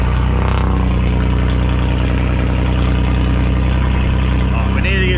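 A Bosozoku-style Australian drift car's engine runs in a loud, steady, rumbling idle with a deep low throb, close to the mic, with a brief voice near the start and another near the end.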